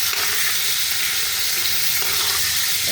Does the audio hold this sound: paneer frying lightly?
yes